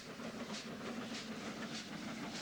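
Yard shunter locomotive hauling a train along rails near Bulawayo, a steady, fairly faint rumble with soft rhythmic clicks repeating about every half second.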